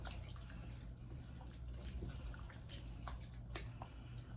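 Water is poured into a pot of eggplant stew in a home kitchen, giving a steady, close splashing and trickling with scattered drips over a low hum, without talk.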